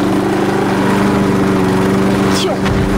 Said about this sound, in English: Why is there a lawnmower?